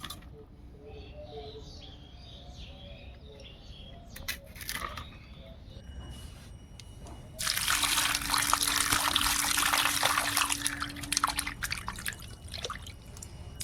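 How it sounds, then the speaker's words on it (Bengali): Freshly peeled prawns rinsed in water while cooking Bengali lau chingri, a loud broadband rush of running water building at the midpoint over earlier soft drips and trickles, close and steady, with no talk. "সব চিংড়ি মাছগুলো ছাড়িয়ে নিয়েছি, একটু ভালো করে ধুয়ে নিই"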